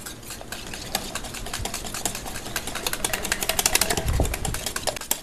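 Butter being chopped and stirred into melted chocolate for Guinness cupcakes, a close run of quick clicking and scraping taps from a utensil against the bowl, steady and busy with no talk.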